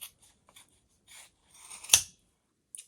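Sharp scissors snip through chunky yarn for a pom-pom: a few quiet, close scrapes and short snips, then one crisp louder cut and a faint final snip.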